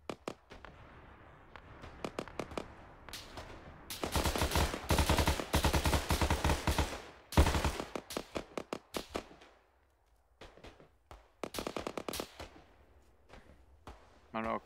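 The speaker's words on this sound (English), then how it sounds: "they got a Humvee with a machine gun back there" Humvee-mounted machine gun firing in ArmA 3, heard as rapid bursts of loud gunfire with sharp individual shots, a dense sustained stretch in the middle, and scattered distant shots with a voice talking over it.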